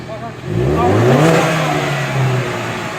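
A Ford EcoBoost car engine revs up close, rising in pitch as it accelerates and then holding a strong sustained tone, with a voice talking over it.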